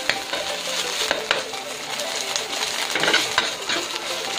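Sardine sisig with chili is stirred in a frying pan, giving a steady, loud sizzle broken by scraping and clinking of the utensil against the pan.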